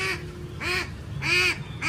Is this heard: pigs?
no